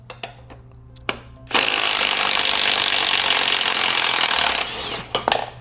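Stubby impact wrench hammering out a red-Loctited kickstand bolt on a Kawasaki ZX6R motorcycle; a loud, continuous rattling burst lasts about three seconds, with a few clicks before and after.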